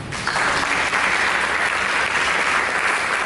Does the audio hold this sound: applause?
yes